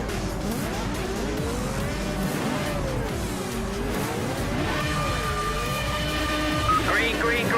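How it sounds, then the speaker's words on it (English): A high-pitched F1 race car engine in the video game Project CARS whines and revs up and down continuously, with tire squeals mixed in and a voice talking underneath. "that engine rev sound"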